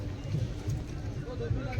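Horses hired at Sheshnag Lake carry riders toward the Amarnath cave in Kashmir, their hooves clip-clopping in a steady rhythm close by, with people talking over the hoofbeats.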